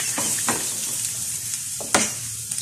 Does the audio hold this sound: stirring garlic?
yes